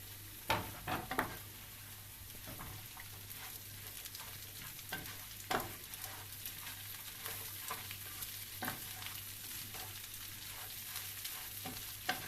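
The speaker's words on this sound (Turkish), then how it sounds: "Pirinçlerimizi iyice kavurdum ve üzerine haşlanmış nohutumuzu döküyorum." Rice sautéing in a pan with boiled chickpeas poured in gives a steady sizzle and fry hiss for about twelve seconds, with scattered scraping stirs and louder clattering bursts near the start and the middle.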